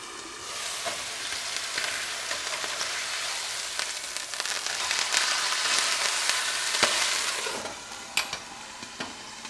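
Steak and onions fry in a pan with a steady, crackling sizzle that swells a little toward the middle, punctuated by sharper pops near the end; close and continuous, with no talking.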